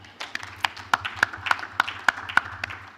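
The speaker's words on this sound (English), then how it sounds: "Let's clap for him." Scattered applause rises at a formal lecture and fellows induction ceremony, light crisp claps from a modest audience, brief and moderately distant, with faint murmuring underneath.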